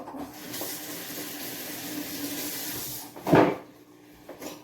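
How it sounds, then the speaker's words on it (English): Running water at a kitchen sink during hand washing after grilling bread for a shrimp po'boy, a steady hiss of tap flow with a louder splash burst near the end, no talking. "Wash up."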